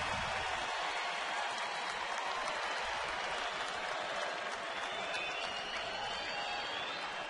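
Baseball stadium crowd at a Colorado at San Diego game cheers in a steady, distant roar to spark a two-out rally, sustained throughout with no clear peaks.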